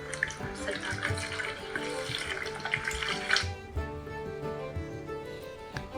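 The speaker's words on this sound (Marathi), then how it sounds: "त्याला असं वरून पाण्याने द्यायचं." Water poured from above onto a potted Lakshmi Kamal plant, a close, splashing gush for about three seconds that then gives way to quieter trickling and drips.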